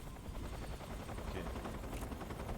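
Helicopter in the video game Metal Gear Solid 3: Snake Eater, a steady low rotor chop that throbs rhythmically throughout at a moderate, even level with no voices over it.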